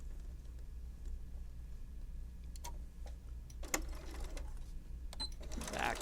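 A sewing machine stitches the corner of a zipper bag in short runs, its faint mechanical whir broken by scattered ticks and clicks, heard up close at low volume without speech.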